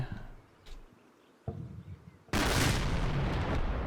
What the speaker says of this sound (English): that's the grenades going out, I think